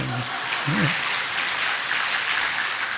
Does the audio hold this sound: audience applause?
yes